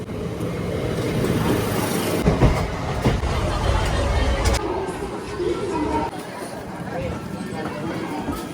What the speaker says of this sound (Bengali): আমাদের ট্রেন এসে গেছে ব্যান্ডেল হাওড়া